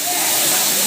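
A waterfall where people bathe at Turridham in Chhattisgarh, heard as a loud, steady broadband rush of falling water very close by, filling the whole short moment.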